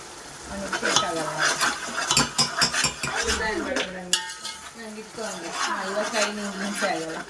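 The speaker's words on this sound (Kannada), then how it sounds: "ಇವಾಗ ಚೆನ್ನಾಗಿ ಮಿಕ್ಸ್ ಮಾಡ್ಬೇಕದು ಈರುಳ್ಳಿ ಎಲ್ಲ ಬ್ರೌನ್ ಆಗೋ ತನಕ" A spoon scrapes and clinks against a pot while onions are stirred until brown for biryani, with a light sizzle underneath and some quiet talking in the background.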